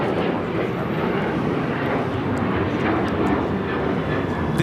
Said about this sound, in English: This is American Airlines Flight 2608 taking off to Chicago on the 737-800